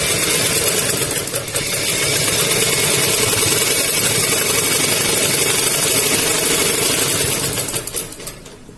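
A sewing machine stitches a double seam on a salwar in a steady, continuous mechanical whir that runs loud and close for most of the stretch, then trails off near the end.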